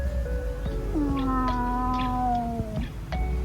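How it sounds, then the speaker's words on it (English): A cat meows in a long, drawn-out wavering cry, then a second shorter call follows near the end, close and fairly clear over a low background hum. "You are beautiful, cat."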